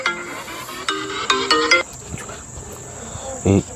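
A phone ringtone plays a quick run of bright electronic melody notes nearby and cuts off after under two seconds, followed by quieter background sounds and a brief low burst near the end.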